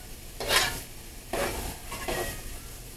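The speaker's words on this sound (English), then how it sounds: "now I'm going to add the mushrooms in here. Yeah. And just saute those up a little bit." Mushrooms being sautéed in a pan for a ground turkey and vegetable lasagna, heard as a few short bursts of stirring and light sizzling with soft scraping between them, close by and alone.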